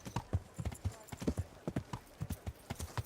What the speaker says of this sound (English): As soon as we heard the horses.